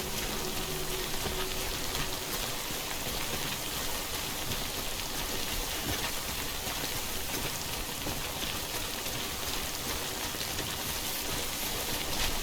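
Steady, dense rain falls throughout in the video game Death Stranding, a constant broadband hiss of drops at even loudness with no voices over it.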